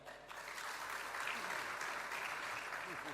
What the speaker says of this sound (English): And if you think we are ready, please clap.